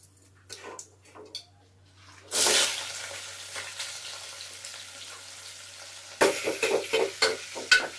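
Mustard seeds hit hot oil in a home kitchen pan for a Sunday curry, giving a loud sudden sizzle that settles into a steady hiss, then a second burst of crackling and spattering pops near the end, after a few quiet clinks.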